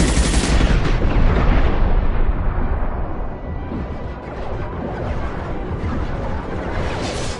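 Loud, sustained gunfire in the video game Mass Effect 2, dense rapid bursts that merge into a continuous close barrage filling the clip.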